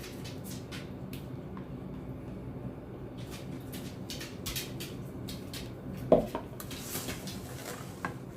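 Beef and added ingredients are mixed in a hot pan, with quiet scraping and clinking of a utensil against the pan, a few light taps and one sharper knock standing out from the low background.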